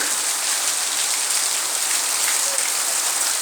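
Very heavy rain pours down steadily, a dense continuous hiss of water with no pauses and no voices.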